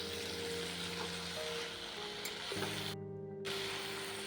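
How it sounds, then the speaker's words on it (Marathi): Vegetables sautéed in a pan for a village-style rice-flour-leaf bhaji, a steady sizzle and frying hiss running throughout with faint stirring, plus a low steady hum in the background. "आता आपली जी भाजी ती आपल्याला यात टाकायची. छान अशी परतायची आपल्याला."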